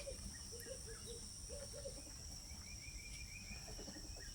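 Outdoors on a homestead, a bird calls in a series of short chirping and cooing phrases, moderately near, over a constant high-pitched cricket drone; no voices.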